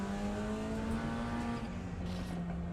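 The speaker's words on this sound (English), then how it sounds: "It's just getting around the track there to warm up the tow truck." A tow truck circles a race track at a World Touring Car Challenge round, its engine droning steadily nearby with a sustained, slightly falling motor tone and no talk.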